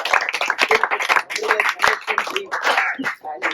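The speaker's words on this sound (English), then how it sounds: "Big round of applause for him." Scattered clapping from an audience at a Bangalore Randonneurs cycling talk about Paris-Brest-Paris 2023, uneven and moderately loud, with voices and chatter mixed in throughout.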